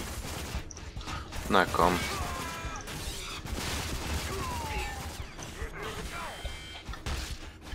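Sustained bursts of gunfire from the shooter game Rage rattle with mechanical clanks and crashes while someone talks briefly over the shooting, loud and close throughout.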